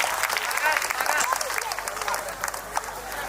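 Audience applause at a Hindi poetry recital by a Chhattisgarh poetess, a steady dense patter of many hands clapping throughout, fairly close and even in level.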